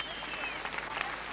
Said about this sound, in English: there the applause rings around the ground for the visit of the Red Devils to St.